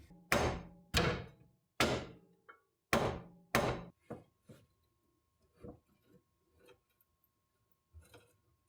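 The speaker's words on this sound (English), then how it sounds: "So now, hammer and crowbar." Several loud metallic hammer strikes on a crowbar land in quick succession, then a few fainter taps and clinks follow with pauses between them.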